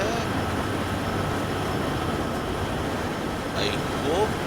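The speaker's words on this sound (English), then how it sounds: "I'm gonna be driving this train for 42 miles" An SD70ACE diesel locomotive in Train Sim World 4 drones steadily with a low rumbling engine and rolling noise, continuous and fairly loud, with a brief higher squeal near the end.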